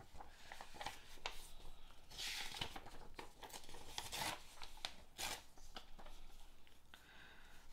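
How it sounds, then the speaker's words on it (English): Paper for a collage is folded and torn by hand: close, faint bursts of rustling and ripping at irregular intervals, with no talk. "I'm going to just fold it and tear it."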